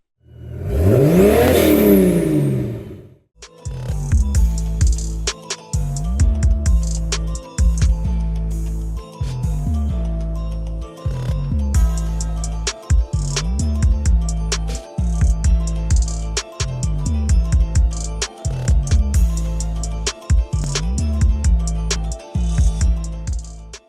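An Etenwolf Zephyr S5 battery-powered portable air compressor inflates a car tire, starting with a loud rising whir, then settling into a fast, steady mechanical pulsing chug that runs loud and close for the rest of the clip.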